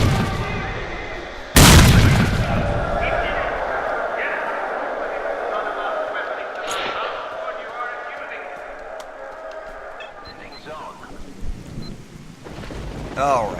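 Grenade explosions and gunfire in the video game STALKER: Shadow of Chernobyl, one sharp loud blast followed by a long rumbling roll and scattered distant bangs and crackles.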